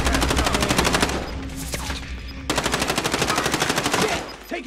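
Rapid automatic gunfire in a shooter video game rattles in fast, loud, steady bursts, breaking off briefly before a second long burst resumes.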